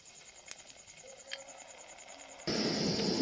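Four dried red chillies drop into hot mustard oil, a sudden loud, steady sizzle bursting in near the end after a quiet stretch of faint background hum and a couple of soft knocks.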